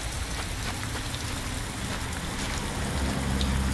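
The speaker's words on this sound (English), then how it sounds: "It's raining. I'd better get back inside." Steady rain falling outdoors in the video game Heavy Rain, a continuous hiss of drops on surfaces, moderately loud and unbroken, with no voices.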